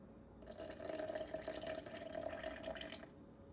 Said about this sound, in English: Go in with 60 grams of filtered water next.